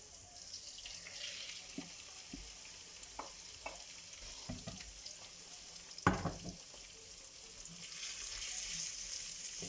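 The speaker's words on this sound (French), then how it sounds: "Bien mélanger mon steak haché, je vais le mettre directement dans la poêle." Ground beef cooking in olive oil in a frying pan, a steady soft sizzle with occasional stirring scrapes and one louder clatter midway, no voices.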